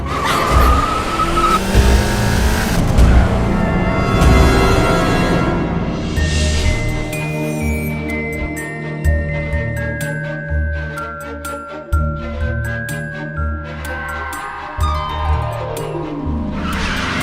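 A car driven at high speed with skidding, screeching tires, the engine loud and close over a busy, shifting dramatic music score throughout.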